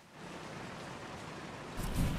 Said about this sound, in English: So it does seem like it's raining outside